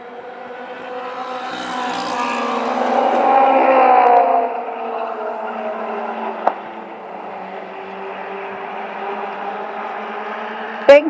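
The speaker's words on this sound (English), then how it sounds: "Dayton Cody's car sounds okay." Race cars circle the oval at Shangri-la 2 Speedway, engines droning as a pack swells louder and then settles into a steady distant hum, with a couple of sharp clicks near the end.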